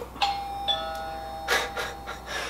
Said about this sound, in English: And the doorbell went off, played the sound through the stereo.